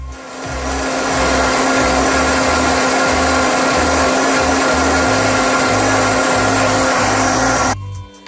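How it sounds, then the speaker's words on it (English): A loud blender motor whirs steadily for several seconds blending butter chicken sauce, its pitch rising as it spins up, then cuts off abruptly at the end. "next step we got to do is put this stuff into a blender"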